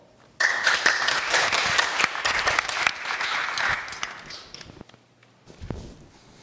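An evening event audience breaks into loud sustained applause for a law firm sponsor and its representative, then the clapping thins and fades out, leaving scattered claps and movement.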